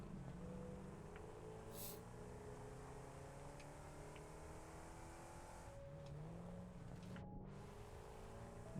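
Engine of a vehicle in the video game Satisfactory driving underwater, a steady muffled low rumble with gliding pitch shifts as it revs, continuous and close, with a few faint clicks and no talking.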